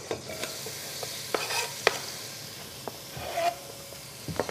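Onions frying in a pot and being stirred, a soft steady sizzle broken by sharp scrapes and clinks of a utensil against the pot, close and quiet.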